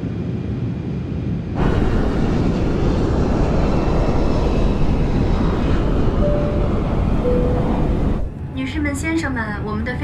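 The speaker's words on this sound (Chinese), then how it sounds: "Ladies and gentlemen, our airplane is descending." Steady airliner cabin roar while the plane descends, a broad constant rumble that swells after a quieter start and drops off near the end, with a couple of faint chime-like tones and a voice coming in at the close.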